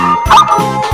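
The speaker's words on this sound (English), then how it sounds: "Dog." A cartoon dog barks in a children's animal puzzle game, two short loud woofs about half a second apart, each with a bright electronic tone, over steady game music.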